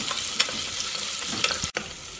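Long-sliced onion sautéing in a spice masala for biryani gives a loud, dense hiss of frying, broken by a couple of quick stirring scrapes and a brief cut near the end.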